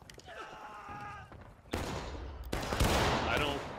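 Musket fire rolls across a battlefield in a game, with distant scattered shots giving way to loud, dense volleys that pile into a continuous crackling roar, with faint voices underneath.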